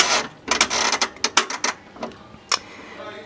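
A clothes dryer's dial is turned on, giving a run of sharp mechanical clicks and ratcheting creaks, loud and close, in quick bursts with a final click after a pause.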